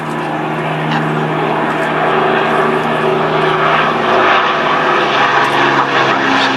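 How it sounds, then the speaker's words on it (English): An Avro Lancaster heavy bomber flies past at an air show, its piston engines droning in a loud, steady roar that swells slightly as it passes, with no voices over it. "The Lancaster was one of, if not the best heavy bomber of the war."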